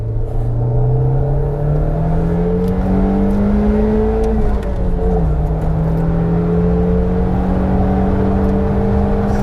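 An old four-wheel-drive sports car engine pulls hard past 3000 to 4000 rpm, its close, loud tone climbing steadily, dipping briefly as the revs shift, then holding high and strong.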